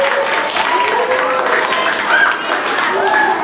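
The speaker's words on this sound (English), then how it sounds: "Let's clap for their good achievement." A spelling bee audience claps and cheers in a dense, continuous wash of applause, with some voices rising above the noise.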